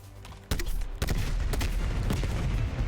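An M79 Thumper grenade launcher in Black Ops Cold War Zombies fires in quick succession, a few sharp booming blasts about half a second apart with rumbling tails between them.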